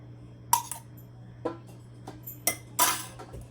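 Metal utensil scrapes and clinks against a cast appe pan while oil is brushed into its cavities, a few sharp bright taps and clatters spaced across a few seconds, close and clear with no talk.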